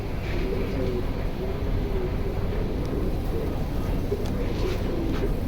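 Pigeons in a collection of kept birds coo in low, wavering murmurs that run steadily throughout, set against a constant background hum.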